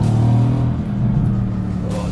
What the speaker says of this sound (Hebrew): יש פשוט תענוג לשמוע את האקזוזים האלה ברקע.